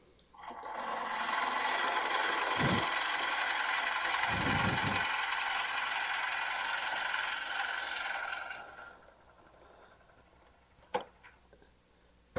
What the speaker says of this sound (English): this is dry wood, and I'm cutting on end grain